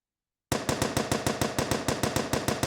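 An M1895 Colt-Browning machine gun in World of Guns opens fire after a short silence, a steady rapid string of loud, evenly spaced shots carrying on without pause.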